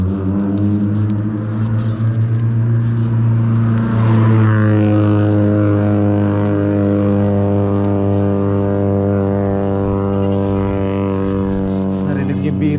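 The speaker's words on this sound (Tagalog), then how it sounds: "Narinig yung birit ng kotse na yun, no?" A car engine drones loudly on a long uphill climb, its harmonic roar holding steady and then rising in pitch about a third of the way through as it strains and revs.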